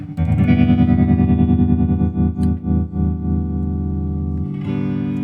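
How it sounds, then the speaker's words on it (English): A loud, distorted electric guitar chord pulses with a steady wobbling vibrato from a '65 Deluxe Reverb amp, sustained for several seconds before a brief change in tone. "we got vibrato. We've got a lot of vibrato, like loud and clear"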